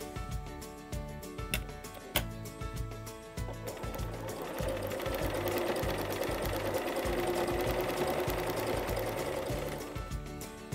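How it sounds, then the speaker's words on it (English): A sewing machine stitches lace laid on top of a ribbon, its needle chattering in a fast, even rhythm close by. It starts with a few slower stitches, runs steadily and then slows near the end, with no talk. "I just leave my lace on top of the ribbon and stitch that together."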